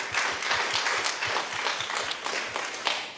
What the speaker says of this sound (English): Give them a round of applause now.